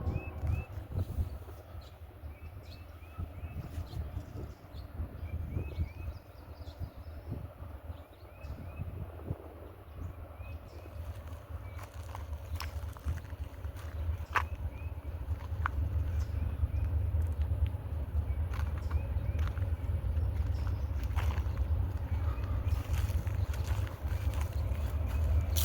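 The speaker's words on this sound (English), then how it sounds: "Train out of Greenwood. I don't know which train it is till he gets closer and I can see it." A freight train with five locomotives approaches from out of Greenwood, a low rumble that starts distant and grows steadily louder and heavier through the second half, with no one speaking.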